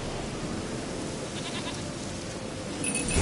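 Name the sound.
goat bleating in The Witcher 3 video game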